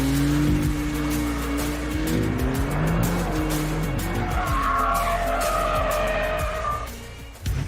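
A Maserati MC20 supercar driven hard around a race track, its engine note rising and falling through gear changes while tires squeal loudly in long sustained skids, close and with no talk.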